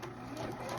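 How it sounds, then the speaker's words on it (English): A sewing machine stitching a half-inch seam along the hip of fully lined pants gives off a brief, steady mechanical whir at moderate volume. "I'm at the machine and I'm just going to do my 1/2 inch stitch from here at the top of the pocket all the way down"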